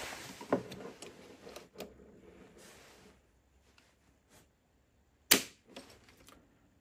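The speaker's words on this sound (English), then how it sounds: "let's go ahead and do a trigger pull" The trigger of a Crosman 1875 Remington BB/pellet gun is pulled, producing sharp metallic snaps of the action releasing, one early and one louder later, separated by near silence and faint handling noise.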